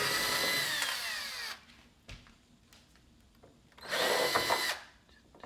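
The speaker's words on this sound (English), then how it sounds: "so let's try and remove the screws." Cordless power drill backing screws out of a Samsung PN60E7000FFXZA plasma TV with a busted power board, two loud whirring bursts separated by a quiet pause with faint handling clicks.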